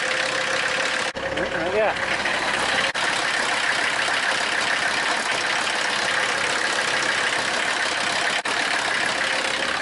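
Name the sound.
old Mercedes car engine idling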